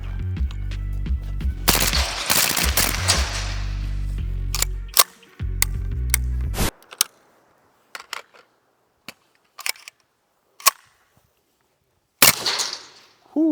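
Vintorez suppressed rifle, switched to full auto at about 900 rounds a minute, fires a few dense rapid bursts followed by scattered single sharp cracks, with a final burst near the end and no talking.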